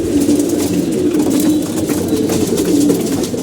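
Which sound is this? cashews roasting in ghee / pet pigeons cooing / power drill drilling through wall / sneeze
pet pigeons cooing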